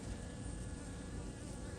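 Honeybees crawling over a hive frame lifted from a package colony, giving off a steady, dense buzzing hum that stays close and constant throughout, with no voices.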